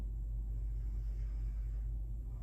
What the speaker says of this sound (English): There is a truck outside